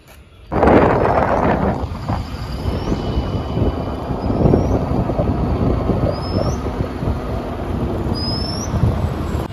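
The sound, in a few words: riding a motor vehicle to the market, with wind noise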